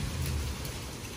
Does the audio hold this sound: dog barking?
no